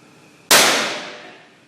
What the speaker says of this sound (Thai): เดี๋ยวนี้นะคะมก็จะมาซ้อมยิงปืนค่ะ